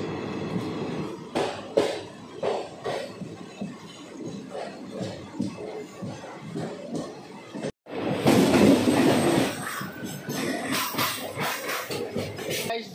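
The Lokshakti Express rolls near Andheri station in Mumbai, giving rhythmic wheel thumps and clatter heard from inside the train, then a louder, denser rush of rail noise in the second half.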